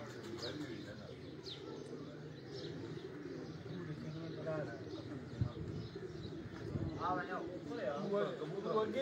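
Pigeons cooing on a rooftop in Mianwali, soft repeated throaty coos and a few chirps close by while people talk over them.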